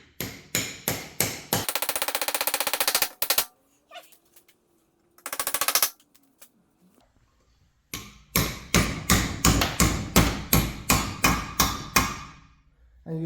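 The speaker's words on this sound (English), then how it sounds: "you hear that noise when it changes from tung tung tung to ding ding ding. That's when they're seated." A 12-point socket tapped with a persuasion tool seats valve stem seals on an OM605 2.9-liter stroker engine build. The sharp metallic strikes come in quick series and buzzing bursts, loud and close, with a pause midway and a ringing run of hits at the end.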